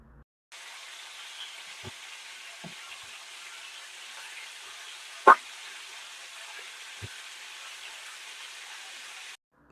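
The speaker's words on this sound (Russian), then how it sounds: "Ну и жарится наша индюшиная шея" Steady broadband sizzle of a turkey neck frying in a pan, continuous and even, with a few soft clicks and one sharper knock midway.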